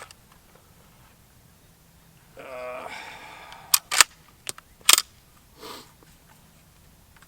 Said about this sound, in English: clear the gun again here